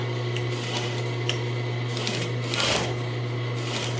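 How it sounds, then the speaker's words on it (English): A sewing machine stitching a zipper into a piped pillow runs steadily and close up, its fast mechanical whir and needle chatter continuous, swelling slightly partway through. "trying to sew on the left side of that black thread line, and then I'll stop right there"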